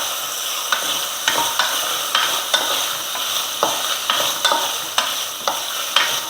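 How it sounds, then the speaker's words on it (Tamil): Vegetables for wheat rava kichadi sautéing in a pan, a continuous close sizzle broken by regular scraping strokes of a spoon stirring them, roughly two per second. "எல்லாத்தையும் சேர்த்து நல்லா ஒரு வதக்கிடுங்க."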